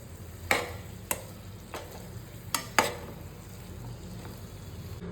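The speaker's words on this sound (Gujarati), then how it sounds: "હવે એને મસ્ત રીતે આપણે મિક્સ કરી લેશું બધા મસાલા સાથે." Boiled potatoes being stirred with spices in a pan for a dry potato dish: a few sharp spatula scrapes and knocks against the pan over a soft, steady background hiss, with no voices.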